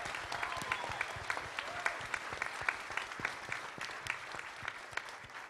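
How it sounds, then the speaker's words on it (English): Audience applause greets the red and blue corner fighters at the Creator Clash 2 weigh-ins, a steady, fairly faint patter of many hands clapping with distinct sharp claps, mostly free of talk. "one big round of applause for all of our fighters in the red corner"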